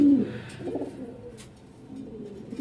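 Close, soft cooing of a Pakistani pigeon at a farm, low throaty calls that fade after the opening moment, with faint background noise.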